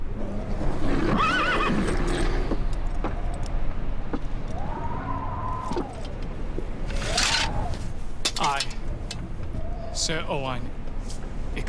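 A horse indoors on a TV show set whinnies several times, with shrill, wavering neighs spread over the stretch, mixed with shuffling and rustling movement under continuous background noise.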